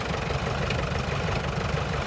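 A tractor engine, freshly worked on and puffing a little blue smoke, idles nearby with a steady low rumbling chug and faint knocking, continuous throughout with no voices.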